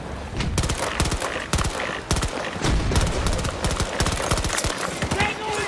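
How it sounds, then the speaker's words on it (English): Burst-fire pistol shots in Battlefield 2042, close and loud, coming in quick clusters of sharp cracks repeated steadily across the whole stretch, with gunfire from the surrounding battle and a voice underneath. "This pistol is insane now that I turned the burst fire on."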